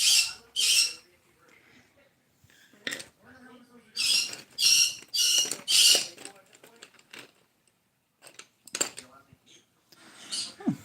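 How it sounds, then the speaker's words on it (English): Pet birds let out several loud, harsh squawks in bursts, some close together and others spaced apart, with quieter chirps and rustling between them indoors. "My birds are gonna drive me bonkers."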